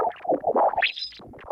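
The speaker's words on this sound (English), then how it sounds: "This is the sound of the solar wind." Sonified solar wind, the sun's stream of charged particles rendered as sound: a warbling, buzzing texture of irregular pulses that rises into a brighter whistling sweep midway, fairly loud and without voices.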